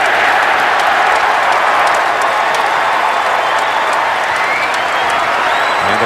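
A basketball arena crowd cheers Maryland against NC State in a loud, sustained roar mixed with applause, filling the space without a break.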